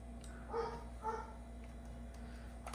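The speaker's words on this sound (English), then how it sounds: "please pardon my dog's barking" A dog barks indoors in the background of a room, two short muffled barks about half a second apart, fairly faint and distant over a low electrical hum, with no talking.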